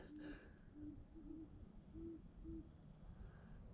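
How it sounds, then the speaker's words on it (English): An owl hoots out in the woods before dark, several soft, short low hoots spaced evenly and faint in the distance over a steady outdoor hiss. "I just heard an owl out in the woods."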